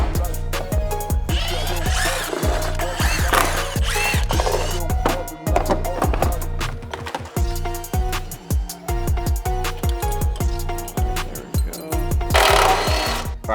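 A power tool on a socket unbolting the control arm of a crashed Toyota GR Supra, loud rapid rattling hammering bursts repeating in quick pulses, close up, with short pauses between runs.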